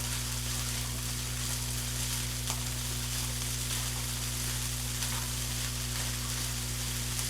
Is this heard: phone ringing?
no